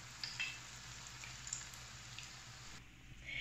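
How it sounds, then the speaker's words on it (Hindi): Hash browns frying in a pan over a medium flame, a steady soft sizzle with occasional small pops, faint and continuous with no voices. "इसी तरह से मैं सारे फ्राई कर लूँगी"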